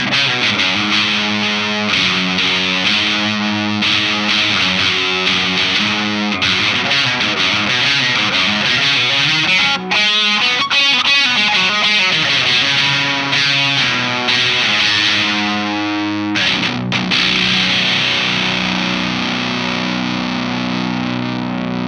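Electric guitar through a Thorpy FX Electric Lightning Chris Buck signature overdrive pedal, thick driven tone with long sustain, loud chords and note runs playing continuously with a few brief pauses, no talking.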